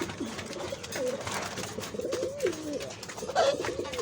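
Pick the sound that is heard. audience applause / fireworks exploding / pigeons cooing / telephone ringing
pigeons cooing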